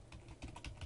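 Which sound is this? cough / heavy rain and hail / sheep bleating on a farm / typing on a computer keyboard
typing on a computer keyboard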